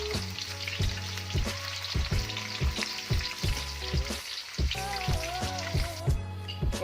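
Shallots sizzle steadily in hot oil, crackling and popping, with a quick rhythmic scrape of a spatula stirring the pan throughout.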